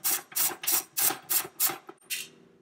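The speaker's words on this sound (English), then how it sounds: "I'm working on a toaster oven with a socket wrench." A socket wrench ratchets on a toaster oven: six quick, evenly spaced clicking bursts close up, then a softer pair after a brief pause.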